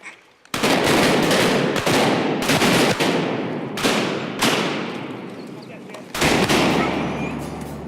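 Shotguns fired during a duck hunt, several loud close blasts in an irregular volley with reports rolling off after each, and voices in between.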